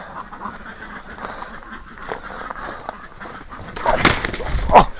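Muscovy ducks on a farm in winter, giving soft hissing, breathy calls and scattered rustling, with a louder burst of calls and flapping near the end.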